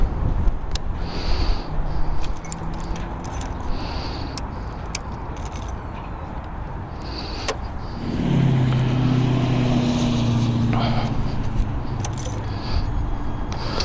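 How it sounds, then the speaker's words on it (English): A Volkswagen car speeds past in a street race, its engine rising from about eight seconds into a loud, sustained drone over steady outdoor background noise, with faint metallic jangling earlier. "Here goes a Volkswagen trying to beat Speedy Gonzales. Speed race or whatever you want to call it."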